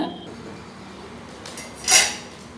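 A single metallic scrape of a utensil against a simmering pot of puli kaichal tamarind paste, brief and bright, over a low steady background hiss from a low flame.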